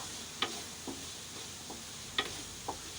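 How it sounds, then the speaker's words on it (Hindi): Keema mince fries in desi ghee, a faint, steady sizzle broken by a few scattered light ticks and taps of a spoon against the pan. "देसी घी के साथ कीमे की भुनाई बहुत ज़बरदस्त होती है"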